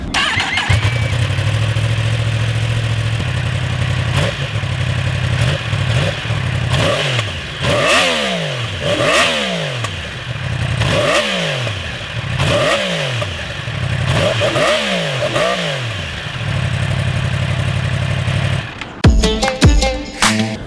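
A 2016 Yamaha R1 60th Anniversary motorcycle with its stock exhaust idles steadily, then gives a run of sharp throttle blips that rise and fall in quick rhythmic revs, settles back to idle and ends with a few clattery bursts, close and loud.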